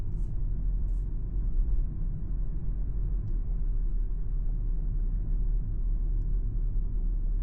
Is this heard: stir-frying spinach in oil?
no